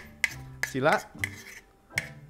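Plates and metal cutlery clinking sharply in a home kitchen while cat food is prepared, with four or five separate close, bright knocks and a brief scraping rattle between them, and no talking.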